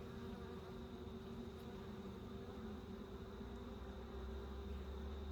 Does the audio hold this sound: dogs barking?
no